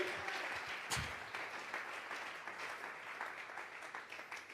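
Church congregation clapping during a Spanish-language Bible study service, a steady, fairly faint burst of applause with one sharp louder clap near the start, continuing evenly to the end.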